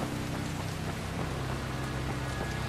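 Steady heavy rain pours down in the Dying Light game world, a constant dense hiss with faint low rumbling beneath and no voices.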